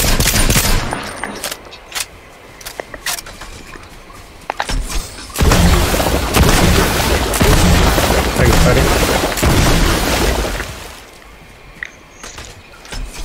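Rifle fire crackles in bursts through a shooter video game match, with loud dense shots and booms packed into the middle seconds and sparser cracks at either end, while players talk over the action.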